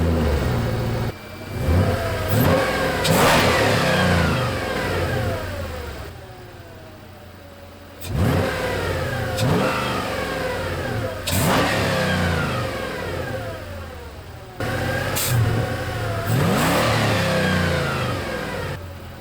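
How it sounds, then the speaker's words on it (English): A Mercedes engine fitted with a nitrous kit revs loudly in three separate bursts, each climbing sharply and then dropping back to idle, close and clear with no voices. "I'm really curious to see what happens if I rev it up a little bit"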